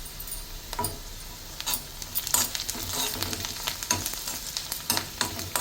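Egg and drumstick leaves stir-fried in a pan, with a steady sizzle and repeated scraping strokes of a spoon through the mixture, close and fairly loud with no talk.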